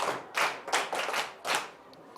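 A group of children claps in a short burst of uneven applause, several quick rounds of hand claps close by, no talking, in a Ghanaian classroom.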